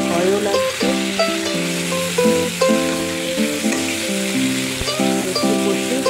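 Water taro and potato vegetable curry sizzles and fries in a wok with a steady, close crackle throughout, while melodic tones play over it.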